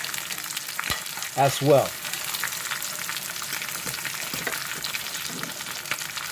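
Salted butter sizzling in hot ghee, a soft steady crackle with light pops, briefly under a short spoken phrase near the start.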